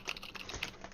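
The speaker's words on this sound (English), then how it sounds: "So now I can start typing again?" Rapid keystrokes on a computer keyboard, a quick run of light clicks close by, fairly quiet, with no voices over them.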